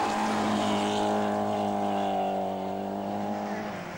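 A Peugeot rally car on a 1988 Welsh Rally stage holds a loud, steady engine note up close, easing slightly toward the end with no voices.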